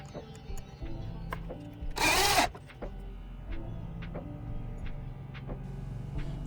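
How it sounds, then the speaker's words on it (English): A drill drives small self-tapping screws into a wooden router sled in one short, loud whirring burst, surrounded by scattered light clicks and handling knocks at close range. "Here I use some small self-tapping screws."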